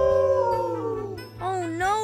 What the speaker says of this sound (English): It's a full moon and all the wolves are howling.